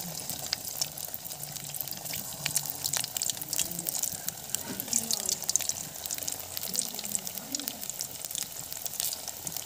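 Bread rolls fry in hot oil, giving a soft, steady sizzle with faint crackles. It runs continuously at low volume beneath occasional talk.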